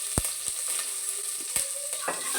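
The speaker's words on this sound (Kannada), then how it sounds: "ಈಗ ಅದಕ್ಕೆ ಹಚ್ಚಿಟ್ಕೊಂಡಿರೋಂಥ ಈರುಳ್ಳಿ ಹಾಕ್ತಾಯಿದ್ದೀನಿ" Chopped onion hits hot tempering oil with curry leaves for a vegetable sambar, making a steady bright sizzle broken by a few sharp clinks of a stirring spoon against the pan. No voices are heard.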